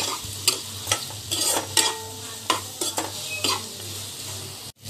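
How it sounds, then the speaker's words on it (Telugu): Cucumber chutney ingredients cooking in a pan are stirred in repeated scraping strokes over a low sizzle, each spoon pass clear and close, with no one talking. "ఇప్పుడు బాగా ఇవన్నీ కలిపి బాగా మగ్గనివ్వాలి"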